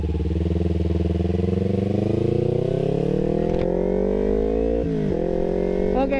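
A Kawasaki Ninja 250 FI with a remapped ECU revs up close, its engine note climbing smoothly and steadily to a high pitch, then dropping briefly and rising again near the end.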